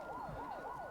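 Wailing emergency vehicle siren outdoors, rising and falling in steady sweeps about three times a second, loud and continuous with no one talking over it.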